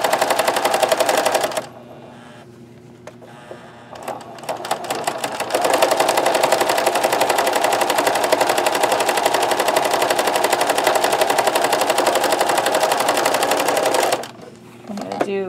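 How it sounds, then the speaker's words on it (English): A sewing machine stitches a denim notebook cover in a loud, rapid, steady mechanical chatter running for about twelve seconds, close up, with brief pauses and quieter stretches at the start and end. "I'm sewing this with the right side facing up."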